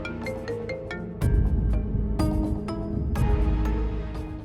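A phone ringtone plays in an Indonesian TV drama scene, a melodic electronic tune of plucked and chiming notes that grows fuller and louder midway, heard alone without speech.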